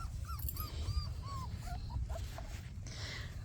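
Young Anatolian Shepherd puppies, about four months old, whimper and yip in a series of high, wavering cries close by, over low rumbling background noise.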